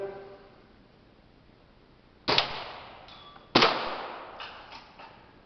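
Two sharp, loud rifle shots a little over a second apart at a school sniper-shooting target range, each with a ringing metallic tail, followed by fainter clanks in a quiet setting.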